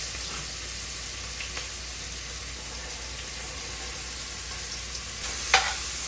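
Onion and celery sauteing in hot olive oil for cheeseburger soup, a continuous close hiss of frying with a couple of faint stirring scrapes and one brief knock near the end, with no talking.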